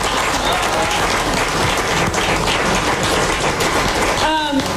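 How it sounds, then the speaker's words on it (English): Dense, steady applause from a large audience at a Rhode Island primary election night gathering, sustained and loud throughout, with a voice briefly rising out of the crowd near the end. "So give them a round of applause."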